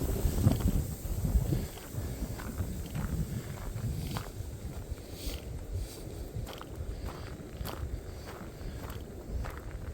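Strong wind of over 30 mph gusts across open ground on Hallaway Hill in Maplewood State Park, a loud, continuous low rumble and buffeting that eases a little after the first seconds, with faint footsteps crunching underneath.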